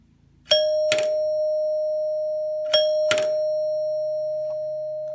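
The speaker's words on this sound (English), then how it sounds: "when I connect the wires to our doorbell." An electric doorbell, its wires connected by hand and making a small spark, sounds twice, each time a sharp ding followed by a second strike, then a steady ringing tone hums on between them.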